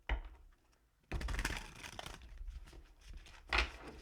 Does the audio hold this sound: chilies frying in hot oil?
no